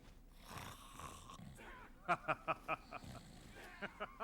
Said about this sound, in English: I never heard the snoring noises before. He always makes snoring noises.